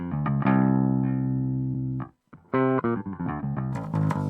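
An electric bass played through a Boss GX-100 amp model with a 57 microphone setting gives a long sustained note, a short pause, then a quicker run of punchy plucked notes, loud and close with no talking.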